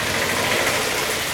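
An idling auto-rickshaw engine gives a steady, loud, rough rumble at close range, with no talk.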